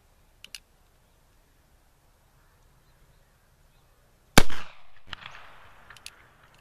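A single loud shot from a Colt 1851 Navy percussion revolver fitted with Slix Shot nipples, a sharp near blast at mid-clip followed by a decaying echo, with faint clicks beforehand and a quieter knock after.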